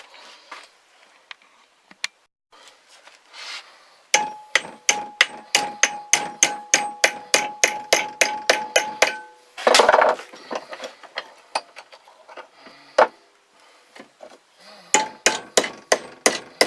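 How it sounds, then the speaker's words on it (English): A metal hammer strikes wire being bent into a swivel for a survival snare, first a few scattered taps, then long bursts of rapid, sharp, ringing blows close by, with pauses between runs. "So I'll find my hammer."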